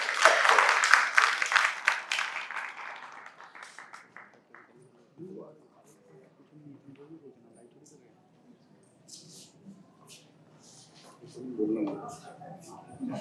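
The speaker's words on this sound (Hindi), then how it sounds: "एक बार तालियां बजा दीजिए।" An audience at a literary awards ceremony in India breaks into loud applause that fades out over the first few seconds, followed by a quieter stretch where a person speaks.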